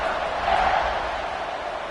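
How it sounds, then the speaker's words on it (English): A stadium crowd at a college football game roars steadily after a touchdown drive, a broad sustained wash of cheering with no pauses. "this crowd is feeling themselves after that last drive"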